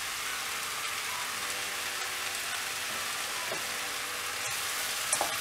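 Mushrooms sizzle in an oil-filled pan while being fried for a gravy, a continuous loud hiss with scattered small pops.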